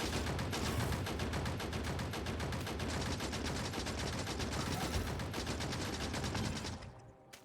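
Rapid, sustained gunfire from automated gun turrets in the Factorio mod Krastorio 2, a dense continuous rattle of shots that runs loud throughout, then cuts off near the end.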